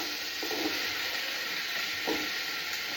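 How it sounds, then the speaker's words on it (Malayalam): Vegetables sautéing in coconut oil in a pot: a steady, continuous sizzling hiss with a couple of faint stirring clatters, moderately quiet. "ചെമ്പിൽ വെളിച്ചെണ്ണ ഒഴിച്ചാൽ ഈ സബ്ജികളെല്ലാം അതിലേക്ക് ഇടുക"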